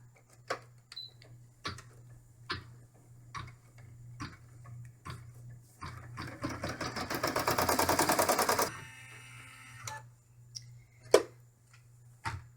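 An embroidery machine stitches window fabric held in a hoop for a camper bag, producing scattered ticks and clicks and then a rapid, louder rattling run of stitches lasting a few seconds before it clicks and stops.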